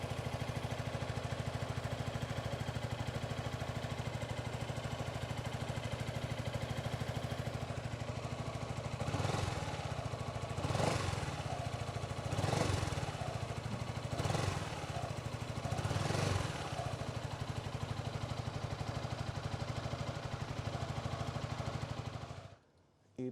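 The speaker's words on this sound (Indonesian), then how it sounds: "Masih stasioner, masih enak banget mesinnya." A stock, unmodified Yamaha XMAX scooter engine idles steadily, a continuous close mechanical hum with several brief louder pulses near the middle, as if the throttle is blipped, then the sound cuts off at the end.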